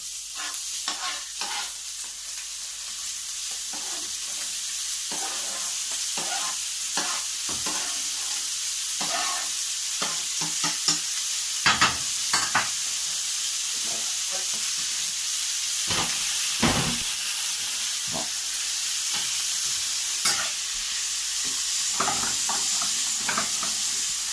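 Chopped bacon rashers and diced onion fry in a pan with a loud, steady hiss and sizzle, while a utensil scrapes and knocks against the pan in scattered strokes, close up and without speech.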